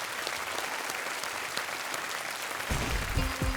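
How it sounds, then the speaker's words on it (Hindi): Studio audience applause welcoming game show contestants, a dense steady wash of clapping, with a low musical swell rising beneath it near the end. "तालियों के साथ उनका स्वागत किया जाए।"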